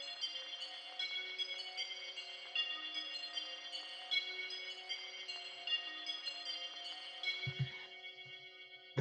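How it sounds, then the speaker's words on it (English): A synthesized bell instrument in an FL Studio beat rings in sustained, shimmering tones with layered bright overtones, playing steadily for about eight seconds before a brief low thump and fade near the end. "this is how the bell sounds"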